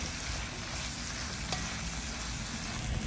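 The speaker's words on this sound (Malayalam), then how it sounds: "സവാളയും മൂത്ത് വരുന്നു പച്ചമുളക് ഇടുന്നു" Onions and green chillies frying in a pan, giving a dense, even sizzle close up that runs unbroken throughout, with no talk.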